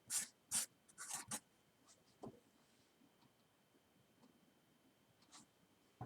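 Handwriting on paper during a math lesson, with quick scratchy pen strokes in short bursts near the start and sparse faint strokes afterward, quiet and close with no talking.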